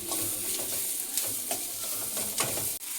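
Onions and coconut pieces fry for onion palya with a steady close sizzle. Repeated scraping stir strokes rise above it, and a brief sharp knock comes near the end.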